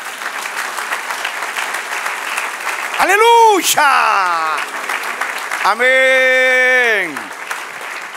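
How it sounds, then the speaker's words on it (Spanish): A church congregation breaks into steady, loud applause during a sermon, while voices shout praises over the clapping. "Dale un aplauso, Señor."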